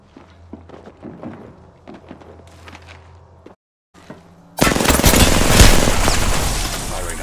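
Automatic gunfire in the video game Apex Legends erupts as a loud, dense burst after quieter game sounds and a brief silence, sustained to the end.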